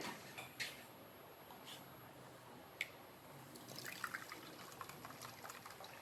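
Blended cucumber, coconut and lemon juice being filtered, a faint trickle and drip of liquid with a few small clinks against a container, quiet and close.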